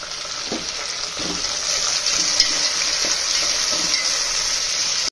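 Tomatoes frying in a pan for gongura prawn biryani, a steady bright sizzle with soft intermittent scrapes of stirring, close and continuous without voices.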